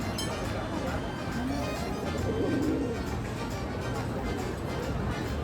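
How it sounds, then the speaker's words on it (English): A pigeon coos softly beneath a café table in Turin, a brief low murmuring call around the middle of the clip, set against steady outdoor restaurant background noise. "I think this pigeon is flirting up a storm under my table."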